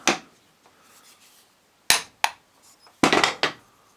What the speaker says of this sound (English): Yeah, where's my hammer?